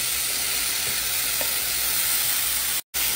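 Burger meat sizzling in a hot pan as it goes in, a loud, steady hiss and crackle of frying that fills the whole stretch, with a brief dropout near the end.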